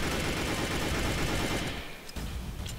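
Rapid shots from a Desert Eagle handgun in the Roblox game Mad City, loud and continuous for about two seconds, then tailing off, with no talking.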